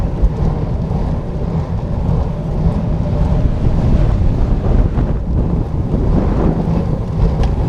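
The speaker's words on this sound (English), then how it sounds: "Windy." Heavy wind buffeting a microphone while commuting by bicycle, a loud, continuous low rumble with gusty surges throughout and no talking.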